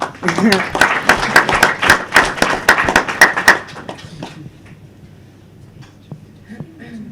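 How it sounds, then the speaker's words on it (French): Sparse clapping from a small audience at a conference, a handful of distinct claps in uneven rhythm for a few seconds, then quieter room sound with faint voices. "Sous vos applaudissements, bien sûr"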